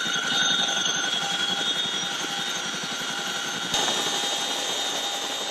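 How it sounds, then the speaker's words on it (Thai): National Guard helicopter flying over a wildfire on Maui, Hawaii, while dropping water: a steady, loud rotor and turbine roar with a constant whine, continuous and close throughout, with no voices. "เฮลิคอปเตอร์ของหน่วย National Guard ในรัฐฮาวายโปรยน้ำดับไฟป่าบนเกาะเมาอี"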